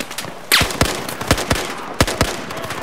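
Rapid gunshots from Battlefield 4 headshots ring out as loud, sharp broadband cracks, about six or seven irregularly spaced reports, each with a short decaying tail over quieter game ambience.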